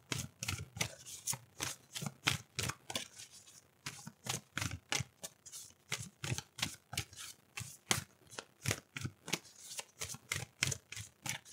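A deck of cards is shuffled over and over in a quick, steady rhythm of crisp riffling bursts, close and fairly quiet, with no voices.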